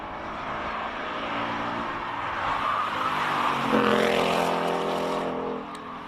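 A classic Ford Mustang Mark 1 with rear-wheel drive at a King of the Mountain hill climb in Cape Town, its engine roaring loud and close as it climbs, pitch rising under acceleration before the sound fades near the end.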